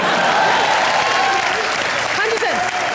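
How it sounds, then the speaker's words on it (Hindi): A large TV comedy show studio audience claps loudly and steadily throughout, dense and continuous, with a few cheers rising near the end. "जोरदार तालियां"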